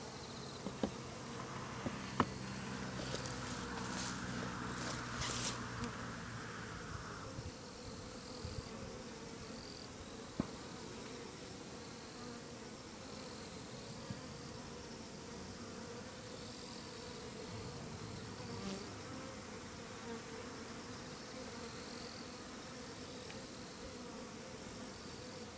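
A swarm of Japanese honey bees (Apis cerana japonica) being recombined with its queen gives a steady, dense buzzing that runs the whole time, thicker and busier in the first few seconds, with a few sharp ticks scattered through.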